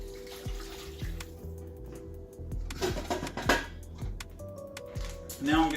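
Water, 2.5 cups of it, is poured into a pot, splashing and trickling steadily at close range, with a few clinks of the pot and a brief sharp clatter at the end.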